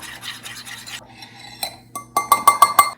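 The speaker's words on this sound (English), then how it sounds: "Mix the butter and caramel." Butter and caramel mixed with a spoon in a bowl: close scraping and stirring strokes, then a run of about five sharp, rhythmic clinks of the spoon against the bowl, with no talking.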